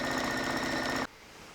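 A sewing machine runs at a steady, fast, buzzing clatter for about a second while stitching a long straight seam on a play mat, then stops abruptly, leaving faint room noise.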